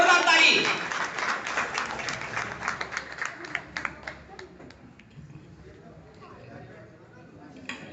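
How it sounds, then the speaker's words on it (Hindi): An audience claps at a marketing event as a guest is called to the stage. The applause starts loud and dense, then thins into scattered claps and fades, with crowd noise under it. "जोरदार ताली।"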